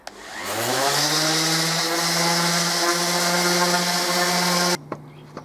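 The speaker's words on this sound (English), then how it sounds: "now to sand the faces ready for priming" A power sander works the wooden faces of a zen garden bridge before priming, spinning up to a steady loud whine and cutting off near the end.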